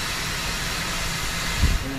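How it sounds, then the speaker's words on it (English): Steam locomotive on a heritage moors railway hissing steadily as it steam-heats the train, a continuous broad hiss at moderate level with a faint low thump near the end. "I'm doing is steam heating the train"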